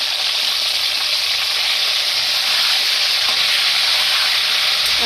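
Chicken pieces fry in oil for a curry with a loud, even, close-up sizzle and hiss that holds steady and never lets up.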